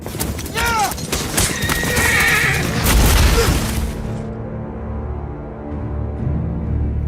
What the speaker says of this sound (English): That's 40 horses charging full speed at Kit Harington.